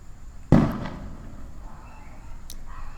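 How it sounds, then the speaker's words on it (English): A single sharp firework bang goes off outdoors at night, sounding moderately distant and trailing into a brief rumble, with a faint second crack later against quiet background noise. "People still shooting off fireworks."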